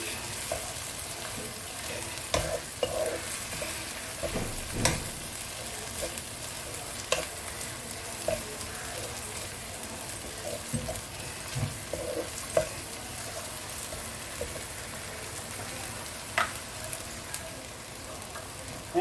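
Ginger and garlic frying in hot oil for chicken curry, a steady crackling sizzle with occasional scrapes and knocks of a spoon stirring the pan, close and continuous without talk.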